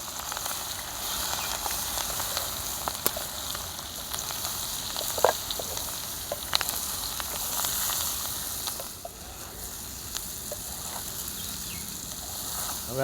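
Potatoes, cauliflower, chillies, salt, turmeric and coriander-cumin powder sizzle together in a pan, making a soft, continuous crackle with scattered light scrapes and taps as they are stirred.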